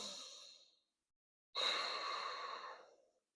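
Two deep, full breaths during a slow yoga practice, one airy exhale fading out, then after a brief silence a longer, close, breathy breath that trails away.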